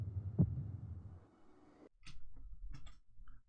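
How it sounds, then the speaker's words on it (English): A heartbeat thumping in the 1976 King Kong film: a single low thump early, then muffled ticking and soft knocks on the soundtrack, faint and with no talking. "And you just hear the thumping of the heart."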